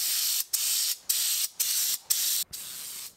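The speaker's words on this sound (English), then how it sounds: "it's time to start spraying the van." A spray gun applies Raptor Liner bedliner onto a camper van in five long, loud hissing bursts, each separated by a brief pause and a faint click of the trigger, with no talk.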